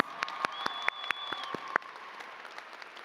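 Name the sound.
applause for a graduate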